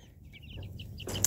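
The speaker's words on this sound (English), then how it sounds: "the chickens are the ones coming over here" Homestead chickens cluck softly in a garden with raised beds, a few short chirpy clucks over low background noise, ending in a brief louder burst.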